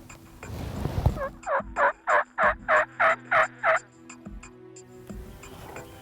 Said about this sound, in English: Justin, there's a gobbler coming from the far right.